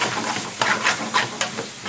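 Pre-cooked onions with big whole pieces and peppers added to a lamb balti, sizzling and being stirred in the pan with a steady frying hiss and a few soft scraping accents, close and fairly loud.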